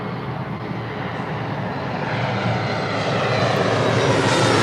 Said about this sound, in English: Right up next is an E-Jet Alaska SkyWest, Flight 3387, coming in from San Jose, California. It's an E-175LR